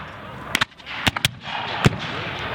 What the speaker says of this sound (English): Cannons starting to find their mark.